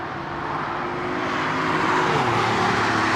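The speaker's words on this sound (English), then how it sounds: "787-10 wheeling its way out." A Houston-bound Boeing 787-10 taxis out at London Heathrow, a broad, steady jet engine roar slowly swelling louder with a low hum beneath.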